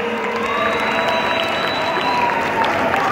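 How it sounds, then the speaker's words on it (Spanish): Concert crowd at a hangar venue applauds the night's bands, loud sustained clapping and cheering from many people with a thin tonal whistle drifting above the noise. "Un aplauso para todas las bandas de"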